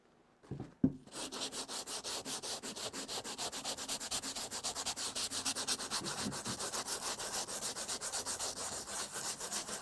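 Steady rhythmic scratchy rubbing of a sanding sponge on wood, close up, with a quick series of back-and-forth strokes continuing for several seconds.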